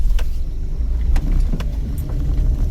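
A car engine revs steadily during a driving lesson on hilly up-and-down roads, a loud continuous low rumble with slight surges and no talk over it.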